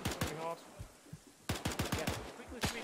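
Bursts of machine gun fire in Arma 3, a Bren gun rattling off short rapid strings of loud shots separated by brief pauses, with distant shots mixed in.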